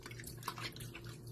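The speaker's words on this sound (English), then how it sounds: "And you put it in the water." A fake fish is dropped into water, giving soft drips and small liquid splashes over a steady low hum, faint and close.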